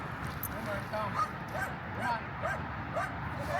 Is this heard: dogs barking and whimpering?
yes